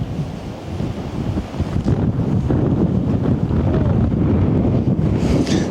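Wind buffets the microphone on a golf course during a par 3 hole, a steady loud low roar that gusts stronger after the first couple of seconds and carries on without a break.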